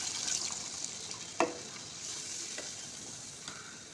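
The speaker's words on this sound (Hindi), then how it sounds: "अब हम इसमें ये पानी ऐड करेंगे" Water poured into a pot of sizzling spices and oil for kalonji aloo gosht salan, giving a steady frying hiss with one sharp splash-like burst partway through, close and alone.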